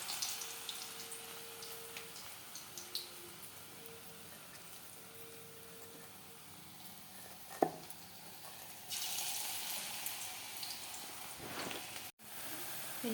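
Small coriander leaf fritters frying in hot oil, a soft continuous hiss and bubbling that swells noticeably louder partway through as more batter goes in.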